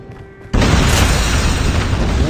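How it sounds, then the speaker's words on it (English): A friendly airstrike in a video game lands after a short quiet stretch with a faint tone, then breaks into a loud, sustained, roaring explosion. The blast keeps rumbling at full strength until the end. "Friendly airstrike incoming."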